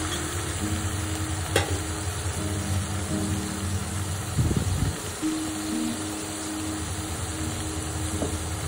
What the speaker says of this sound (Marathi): हा मसाला आपण चांगला परतून घ्यायचा आहे